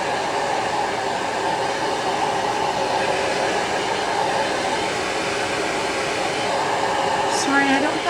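A hair dryer drying paint whirs steadily at close range, a continuous airy roar that holds level throughout with no pauses.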